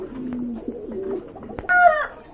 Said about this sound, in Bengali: এই যে দেখেন খুব চমৎকার এক জোড়া কবুতর